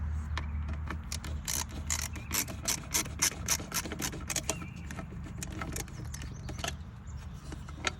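The lever cover of a Jacuzzi (Carvin) Laser 192 pool filter is jiggled and worked loose, giving a continuous close rubbing, scraping rattle of plastic parts with many small irregular clicks and knocks.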